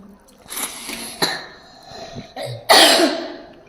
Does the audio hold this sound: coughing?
yes